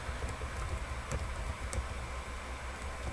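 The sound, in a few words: typing on a computer keyboard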